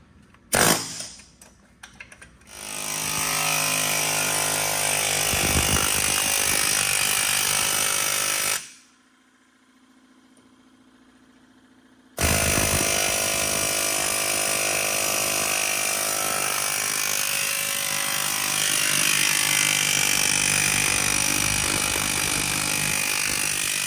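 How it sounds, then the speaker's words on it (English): A loud pneumatic air hammer rattles in sustained bursts during a vehicle axle swap, stops briefly for a quiet pause, then resumes hammering steadily at close range. "gonna get his first hit on the air hammer"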